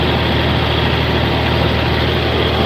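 A 40-20 tractor engine idles close and loud, a steady low throbbing drone with no voices over it.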